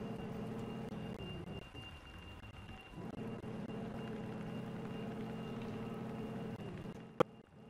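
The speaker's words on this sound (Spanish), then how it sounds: "Está lloviendo" Steady rain in the video game Robot Squad Simulator patters continuously with a low rumble underneath, fairly quiet and even, ending with a brief sharp click.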